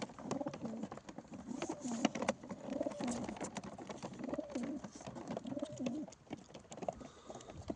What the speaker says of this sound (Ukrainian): Голуби вже хочуть летіти.